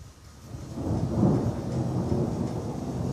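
Rolling thunder from a summer storm in Katy, Texas, a low rumble building over the first second and sustained loudly to the end, with rain hiss underneath and no voices.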